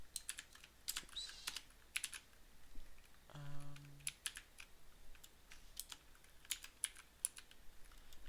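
Soft, irregular keystrokes on a computer keyboard click away in scattered bursts, faint and close, with a brief electronic tone partway through.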